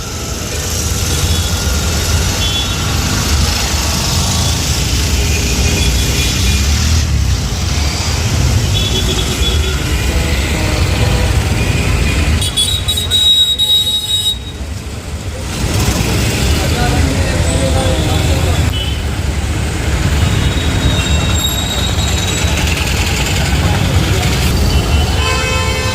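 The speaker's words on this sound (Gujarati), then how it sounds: "ખૂબ જ હેવી ટ્રાફિક છે બસ સ્ટેન્ડમાં" Heavy bus traffic at the Rajkot GSRTC bus stand: a steady, loud roar of idling and moving buses and other vehicles fills the scene, with a brief dip midway and people talking over the din.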